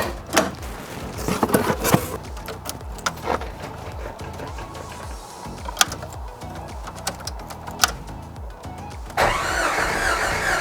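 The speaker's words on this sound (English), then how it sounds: "I'm gonna start the car." A Jeep engine, just fitted with a new thermostat, cranks with repeated rhythmic turning-over sounds and sharp clicks, then catches and settles into a louder steady run near the end.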